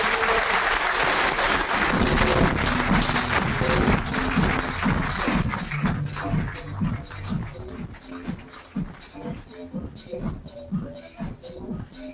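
A conference audience at a leadership event applauds a speaker coming up, a full burst of clapping that thins into scattered claps with some shuffling and murmuring underneath.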